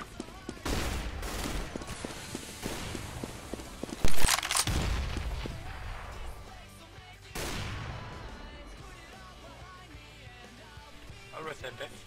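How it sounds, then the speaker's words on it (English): A flashbang grenade goes off in Counter-Strike: Global Offensive as one sharp, loud bang inside a stretch of scattered gunfire, with players talking over the action. "Deploying flashbang."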